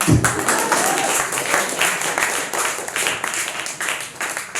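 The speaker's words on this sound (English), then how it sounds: "Give him an applause for fuck's sake" Audience applause at a comedy show, a moderate crowd clapping steadily and fairly close, with scattered claps and some murmuring throughout.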